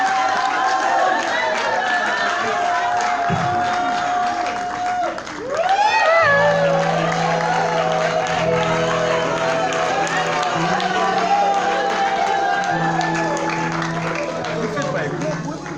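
A crowd at a senator's book launch acclaims as flowers are presented, with a continuous wash of clapping and cheering that runs under a voice and music throughout.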